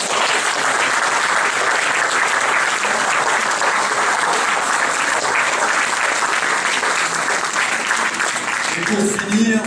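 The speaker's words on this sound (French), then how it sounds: "Donc on peut l'applaudir." Audience applause at a UDI political group's New Year speech in 2014, a steady, dense clapping from a crowd that continues loudly for nearly ten seconds without pause.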